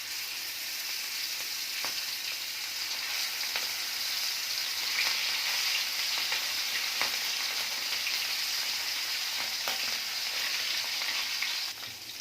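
Chala fish pieces frying in hot oil, a steady dense sizzle with crackling pops running evenly throughout, close and fairly loud with no talking.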